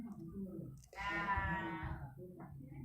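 A single goat bleats once at close range, a loud quavering cry lasting about a second, with indoor talk murmuring before and after it.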